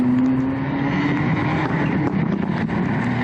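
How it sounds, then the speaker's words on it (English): Subaru Impreza WRC rally car on the Fleetwood stage of a North West stages rally, a loud, continuous engine drone with a steady tone and wind buffeting, heard up close without talk. "Chris Ford and his Subaru Impreza WRC going around the Fleetwood stage"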